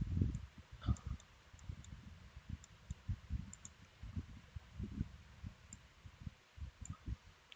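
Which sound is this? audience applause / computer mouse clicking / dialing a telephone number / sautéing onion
computer mouse clicking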